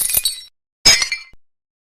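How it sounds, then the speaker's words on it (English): A glass window breaks as a chunk of ice crashes through it: two sharp shattering bursts with tinkling fragments, separated by silence. "he could still hear the crash of that glass as the chunk of ice went sailing through it"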